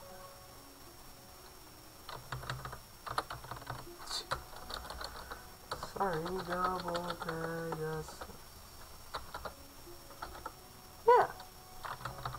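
Someone types on a computer keyboard while playing Stonehearth, with irregular bursts of quiet clicking keystrokes over a low background. A brief spoken word and a sung or hummed passage break in partway through.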